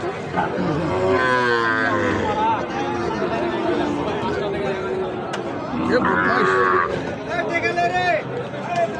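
Sahiwal bull calves at the Ambari cattle market moo loudly several times over a constant din of crowd chatter and nearby talking.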